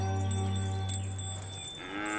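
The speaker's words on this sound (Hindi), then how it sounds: "अरे, ये तो सिर्फ भैंस है, बफेलो।" A buffalo gives a long, loud, low moo that holds steady for about a second and a half, then fades into quieter rural background noise in a village setting.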